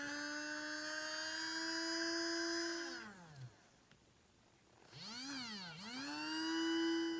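A small electric motor in a 1980s skateboard-themed tin toy, oiled and run on a 9-volt battery, whines steadily and loud, then slows to a stop, falls quiet, restarts and dips once before settling back to full speed.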